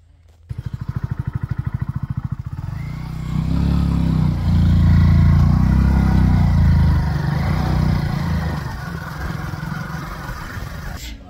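A motorcycle chugs at idle with rapid, even engine pulses, then opens up into a loud, close, sustained rumble as it pulls away and rides on, with a voice briefly audible.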